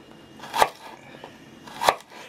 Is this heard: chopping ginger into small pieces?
yes